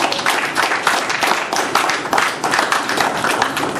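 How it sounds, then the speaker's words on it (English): A large audience at an annual workshop claps steadily in a dense round of applause, loud and continuous throughout. "Can we please give a round of applause?"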